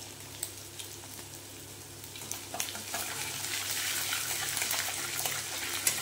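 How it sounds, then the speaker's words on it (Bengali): Chopped ginger sautés in a hot pan, giving a soft, steady sizzle with occasional light clinks and stirring scrapes, growing a little louder as it goes. "দিয়ে দেব বন্ধুরা কুচিয়ে রাখা আদা। এটাকে আস্তে করে কষিয়ে নেব।"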